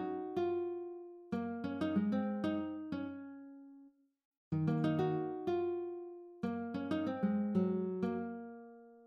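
Programmed classical guitar plays a plucked melody with arpeggiated chords in an Afrobeat production, rhythmic phrases decaying between attacks, a short gap near the middle, then continuing; mechanical and even in feel, with no voices.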